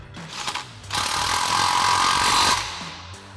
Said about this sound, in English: we'll go ahead and tighten our bottom mounting bolt here, again with our 17 mil socket on our impact